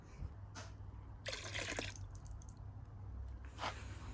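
A few small splashes of liquid poured into a car-wash wheels bucket, with Autoglym car-care product added: a soft splash near the start, a longer wet burst in the middle and one more toward the end, close and moderately quiet.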